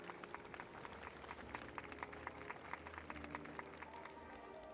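Sustained applause from a sizable festival crowd in a video game, many hands clapping in a dense, even patter, fairly distant and soft.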